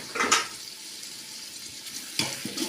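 Tomatoes sauté in a pan for mutton biryani with a faint, steady sizzle. Two short clattering bursts of stirring come near the start and again near the end.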